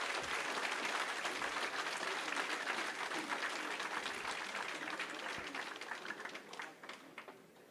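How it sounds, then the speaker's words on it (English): Auditorium audience applauding for a guest speaker, dense steady clapping from a large crowd that slowly thins toward the end. "please give a big round of applause to Mr. K. Annamalai."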